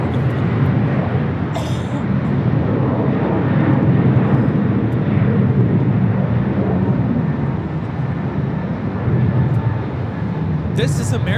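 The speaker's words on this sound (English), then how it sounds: "This is American Airlines 255 coming in from JFK on the A321." Steady, loud jet roar from an American Airlines Airbus A321 on approach to land at LAX, a continuous low rumble filling the whole stretch with no break.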